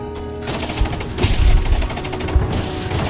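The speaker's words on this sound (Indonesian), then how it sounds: "Zombie-zombie pun menyeruak menerobos masuk ke kawasan itu karena mendengar suara tembakan sang kapten" A captain fires gunshots in the zombie film Peninsula: a dense flurry of loud, overlapping bangs and booms mixed with action-movie sound, with no talking over it.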